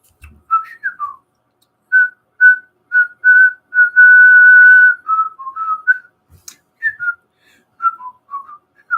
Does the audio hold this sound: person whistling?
yes